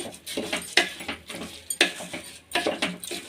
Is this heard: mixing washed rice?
yes